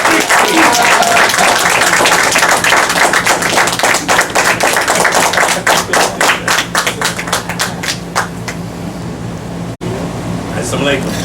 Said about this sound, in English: Let's bring him up with a hearty round of applause.